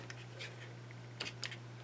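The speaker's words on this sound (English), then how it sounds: "we just come in with our ribbon scissors and just cut the tails" Ribbon scissors snip the tails of twine on a paper craft project, two quick close crisp cuts over a steady low hum, no talking.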